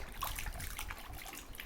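Water splashing and trickling in a bathtub as it is poured, with irregular close splashes at a low, steady level and no voices.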